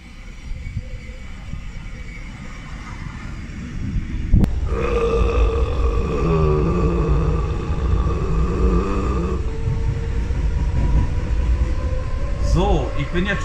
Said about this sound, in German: die beste Baureihe der S-Bahn Hamburg fährt ein.